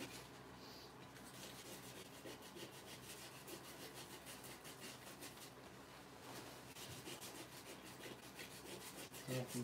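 Steady, continuous scraping and rubbing as sandpaper works a wooden base, a dense, even abrasive texture running the whole time at close range with no talk.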